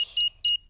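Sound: house alarm being switched back on, beeping

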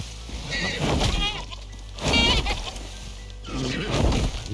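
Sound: chamois bleating in the video game Icarus

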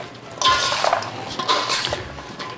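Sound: mixing chopped onions and celery in a bowl

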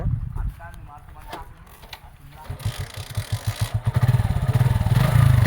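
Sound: motorcycle engine being started

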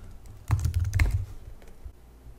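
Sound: typing on a computer keyboard

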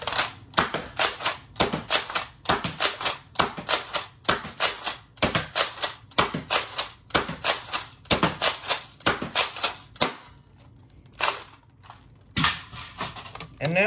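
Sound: Nerf Nexus Pro blaster firing full length darts

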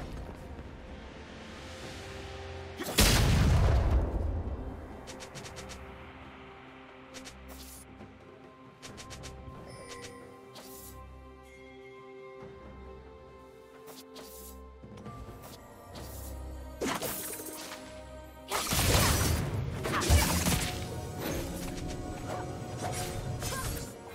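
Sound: turret being destroyed in League of Legends video game

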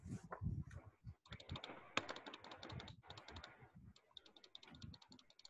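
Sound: typing on a computer keyboard

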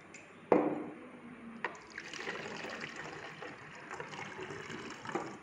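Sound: water being poured from a glass into a container

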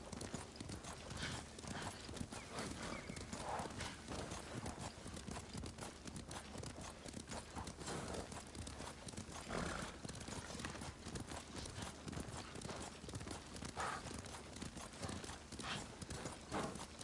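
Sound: horse hooves and neighing in video game Ghost of Tsushima

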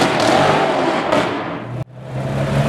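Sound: Porsche 991.2 GT3 driving past

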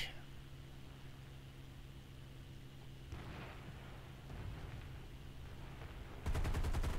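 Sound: P-51 Mustang machine gun fire in War Thunder video game

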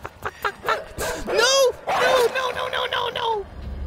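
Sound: dogs barking in INSIDE video game

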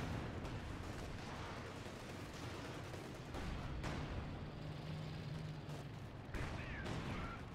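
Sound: artillery strike explosions in the video game Company of Heroes

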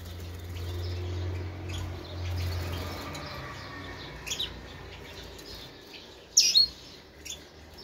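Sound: birds chirping in an aviary

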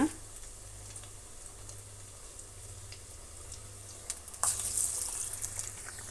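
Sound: vada deep frying in oil

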